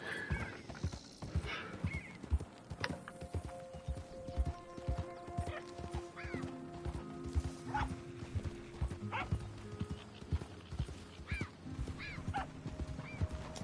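Horse in the video game Red Dead Redemption 2: steady hoof clip-clop with occasional neighs and whinnies, moderately close, over faint game ambience and no talk.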